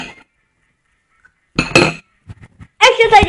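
A spoon clinks against a dish during eating, with a few sharp, close metallic taps in bursts separated by quiet gaps, alongside a voice.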